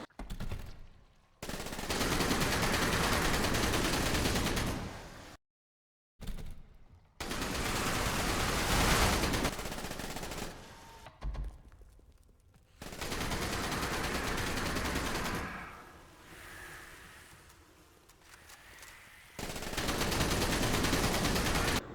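Wound Cannon gunfire from the Dead Frontier 2 zombie game, a loud, sustained barrage of rapid shots in long bursts, broken by a few short pauses and quieter gaps, with no talking.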